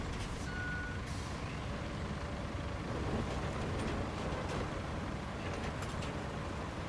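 A forklift on a work site gives off steady reversing beeps under a constant rumble of engines and machinery, with occasional faint higher tones and no speech.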